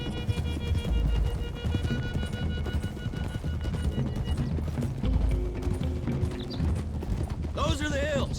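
Horses gallop with steady clip-clop hoofbeats and an occasional whinny during a ride in the Red Dead Redemption 2 video game, set against background music, with a voice speaking over the hooves.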